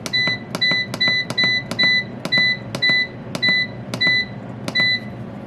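Food dehydrator control panel beeping as the timer is set, about ten short electronic beeps in a quick irregular series, loud and close, no talk.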